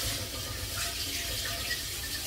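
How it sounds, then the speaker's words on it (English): Water running steadily from a kitchen tap over potatoes being rinsed in a sink, a continuous close hiss and splash without any talking. "I think I'm going to rinse these potatoes again anyway."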